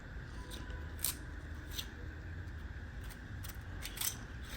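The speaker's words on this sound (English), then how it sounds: "when you slide it up and down, it makes that awesome sound." A 3D printed fidget toy slides up and down, giving a steady dry rasping, clicking mechanism sound with a few sharper ticks, close and fairly quiet, with no talking.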